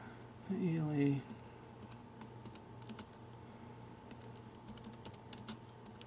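Quiet computer keyboard typing taps out a short string of keys in light, irregular clicks after a brief spoken phrase, with soft ticking continuing at low level.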